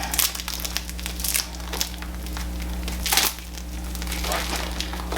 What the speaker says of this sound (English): I'm gonna take this plastic off.